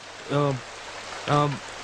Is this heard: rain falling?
yes